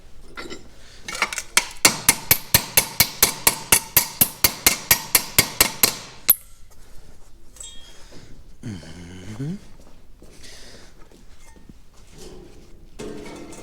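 Rapid, evenly spaced metallic taps of a small hammer on a welded DT-75 tractor tank in a workshop, about twenty strikes ringing out close by, then quieter handling noises.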